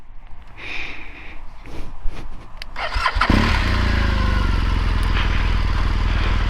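A 2015 BMW R1200 GS motorcycle engine starts after a few seconds of quiet handling noises, then settles into a loud, steady, deep boxer-twin rumble close by.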